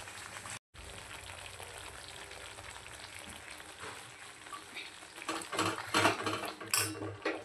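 Mutton masala being stirred and sautéed in a pan until the oil separates, a steady sizzle with scraping and clinking of a spoon against metal, growing busier and louder toward the end, no talk.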